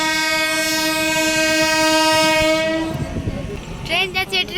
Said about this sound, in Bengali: ট্রেন যাচ্ছে, ট্রেন।